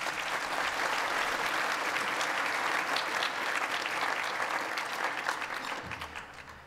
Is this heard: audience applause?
yes